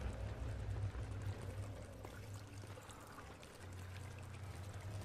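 Water pouring and splashing in the Amnesia video game as cold water is splashed onto a face, a steady faint trickle under a low droning hum throughout.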